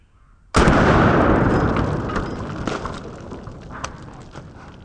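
A single 5.56 rifle round is fired at a target, producing a sharp, loud blast with a long, decaying rumble and faint crackling afterward, with no voices present.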